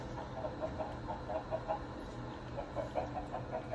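Minecraft chickens cluck softly and repeatedly in a steady, bubbling rhythm, moderately close, with no voices.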